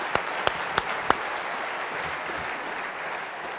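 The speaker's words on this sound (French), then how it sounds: "je vous demande d'ailleurs de les applaudir encore une fois" An audience at a notaries and accountants' finance law presentation claps in a steady, dense wash of applause, with a few sharp, louder claps standing out near the start.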